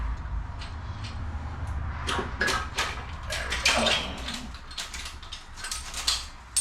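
Metallic ratcheting and clinking as a wrench works a stubborn bolt off an Acura NSX engine in a garage, irregular clicks and scrapes up close, with faint background hum.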